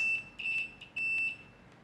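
Continuity beep from a UNI-T 125C multimeter: a thin high-pitched electronic tone sounding in several short bursts and one longer steady beep, with faint clicks of probe contact, close and fairly quiet, no talking.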